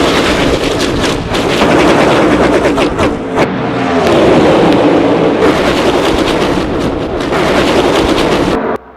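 NASCAR stop-motion race cars coming off turn four at Daytona, a loud continuous roar of engines with rattling bursts, dense and close, cutting off abruptly at the end.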